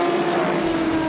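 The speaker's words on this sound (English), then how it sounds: "The Toyota passes Marcel Fessler's Audi R18 e-tron Quattro and ends Audi's double lead for the time being" A Toyota endurance race car overtaking an Audi R18 e-tron Quattro during a 2013 FIA World Endurance Championship race, heard as a loud, steady high-pitched engine whine held briefly without any voices.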